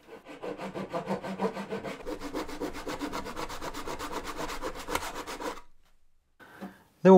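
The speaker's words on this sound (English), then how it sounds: "So I'm just gonna trim that off with a pull saw." Pull saw trimming the ends off tongue and groove flooring wood for toast tongs, a steady run of close rhythmic rasping strokes that quickens, then stops, followed by a faint scrape and a sharp knock.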